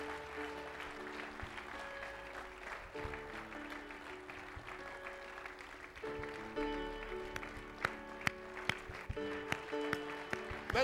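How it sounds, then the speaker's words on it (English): A church congregation claps hands in praise at a Church of God service. The applause sounds faint and sustained and runs alongside organ or keyboard chords, with some sharper claps standing out near the end. "the biggest hand clap of praise we can"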